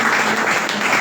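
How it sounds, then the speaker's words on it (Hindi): A short burst of steady crowd clapping at a business stage event, loud and even throughout. "तालियां जोरदार होगी परवेज जी के लिए"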